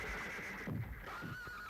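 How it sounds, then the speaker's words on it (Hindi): A horse kept among several in a private stable whinnies once in a short, fairly loud neigh over a steady background. "ये क्या घोड़े रखे हुए हैं?"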